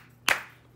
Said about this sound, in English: Help us clap, Jeff.